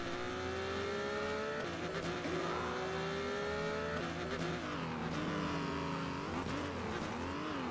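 A rally car in the video game HumanitZ drives hard, its engine whining and rising through gear changes, loud and close with tire squeal and rough revving throughout, no talk.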